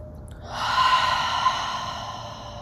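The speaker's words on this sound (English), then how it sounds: "Just take a breath here." A long, deep breath is drawn and released during a yoga posture, starting after a brief quiet moment and holding steady for about two seconds, close and soft with a faint airy hiss.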